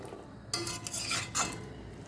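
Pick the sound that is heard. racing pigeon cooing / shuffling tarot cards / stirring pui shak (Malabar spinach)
stirring pui shak (Malabar spinach)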